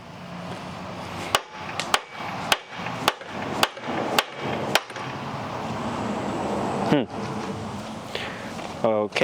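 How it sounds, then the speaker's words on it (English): Heavy hammer blows on a rusty steering tube stuck in a cheap motor, about eight sharp metallic strikes in a steady rhythm, then scraping and clattering handling noises, with no talk. "Now with a bigger hammer, let's see if we can get it out."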